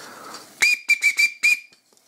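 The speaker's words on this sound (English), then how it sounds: "So there you go. There's the whistles." A coach's whistle, a chartreuse whistle on a blue stem, blows five short shrill bursts in quick succession, loud and close, with nothing else heard.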